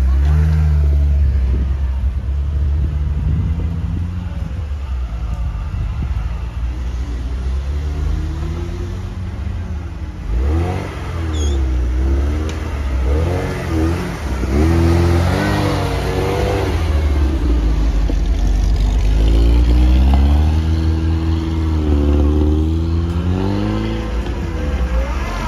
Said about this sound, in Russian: Тяжеловесы, два УАЗика едут